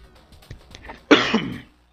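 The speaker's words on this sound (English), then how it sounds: "Might be feeling a little sick here, so I'm going to be coughing a lot" One person gives a single close, harsh cough after a few soft throat sounds, with nothing else around it.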